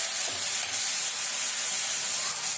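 Tomatoes and onions sautéing in a pan for a Chettinad mutton liver masala gravy, giving a steady, close hiss and sizzle that holds even throughout with no pauses.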